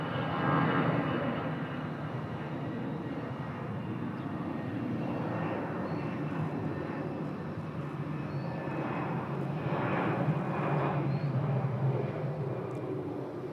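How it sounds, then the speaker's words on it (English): A Singapore Airlines Airbus A350 rolls down the runway and takes off with a broad, steady jet roar that holds loud and unbroken from start to finish. "Slightly shortened departure roll, but not by much for the A350."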